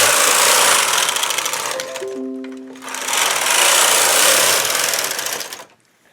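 Knitting machine carriage drawing yarn for an afghan throw, loud rapid mechanical clattering in two sweeps split by a short pause with a few tonal squeaks, then cutting out.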